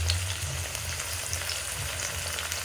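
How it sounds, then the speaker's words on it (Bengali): Breakfast food frying in a pan, a steady close sizzle with a low hum underneath and no break. "এবার এটাকে একটু ভাজা হতে দেবে।"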